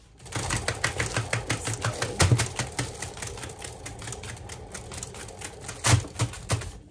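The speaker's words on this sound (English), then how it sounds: "Whoops, I gotta clean out my spinner box. Sorry, it's noisy." A noisy spinner box whirls an acrylic pour painting, giving off a fast, steady, rattling clatter like rapid typing, fairly quiet but continuous, with a couple of louder knocks.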